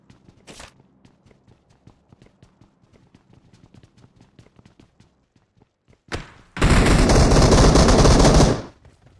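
Gunfire from a PUBG Mobile match on a mountain: a quick burst near the start, faint footsteps and light thuds, then a loud sustained volley of rapid shots lasting about two seconds near the end.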